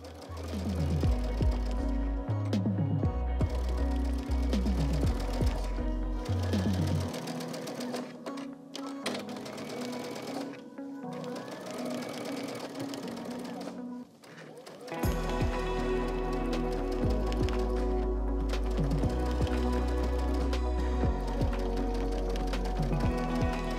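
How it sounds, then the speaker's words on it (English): A sewing machine stitches the points of a quilt star block in long continuous runs, loud and close, pausing briefly before starting up again with a steady mechanical whir. "So now I'm going to sew all of the points, and I'm going to do that in one go."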